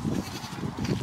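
Sheep on a farm during lambing season bleat in short wavering calls, close and fairly loud, two bursts in quick succession with no talk.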